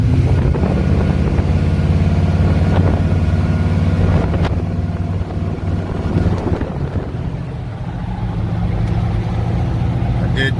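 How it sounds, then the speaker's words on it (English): A custom classic car engine with dual 40 series Flowmaster exhausts rumbles steadily and deep, heard close over wind buffeting on the microphone as the car cruises through a neighborhood. "so we dualed out the exhaust. But 40 series Flowmaster. So man, that made it sound so good."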